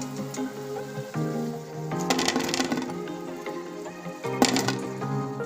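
Crispy fried gobi (cauliflower) pieces crunching and crackling up close, a series of sharp brittle crackles in irregular bursts with quieter gaps between, no talking.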